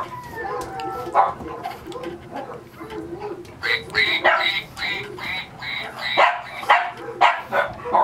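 A French bulldog puppy in a nursery gives repeated short yips and barks in bursts, close and fairly loud, mixed with squeaky toy-like noises and someone talking over it.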